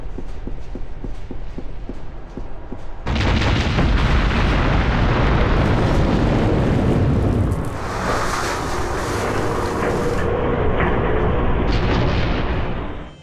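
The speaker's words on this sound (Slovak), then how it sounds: "keď ich všetkých zabijete a položíte časovanú nálož, výsledný výbuch bude stáť za to" A timed charge destroys a submarine in the video game Hidden & Dangerous, erupting suddenly into a loud, roaring blast that rumbles on for about ten seconds before cutting off.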